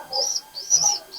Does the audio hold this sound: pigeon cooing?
yes